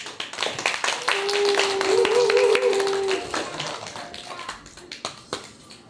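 An audience at a college graduation concert in a live hall claps and cheers to welcome a student performer to the stage, a dense sustained burst of applause rising then trailing into scattered claps, with a tone sounding over it.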